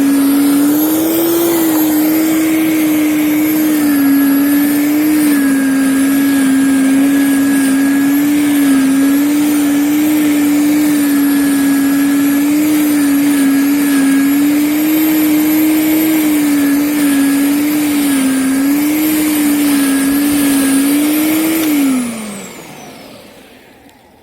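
An electric lawn dethatcher with a safety switch runs steadily on a lawn, a loud, even whine much like a small vacuum cleaner, holding for about twenty seconds before spinning down at the end.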